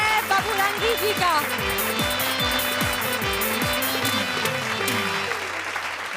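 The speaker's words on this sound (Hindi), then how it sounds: "जोरदार तालियों के साथ स्वागत कीजिए विनय बबुरंगी जी का" A crowd at a poetry show applauds steadily to welcome a poet onto the stage, dense clapping holding at an even level throughout, with a voice and music heard over it.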